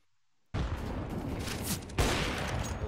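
Gunfire in a competitive shooter video game comes in a sudden burst of loud, crackling shots, then a second heavy blast about a second and a half later, close and harsh, with no talking over it.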